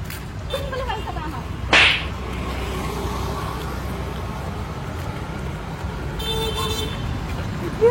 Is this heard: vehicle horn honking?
yes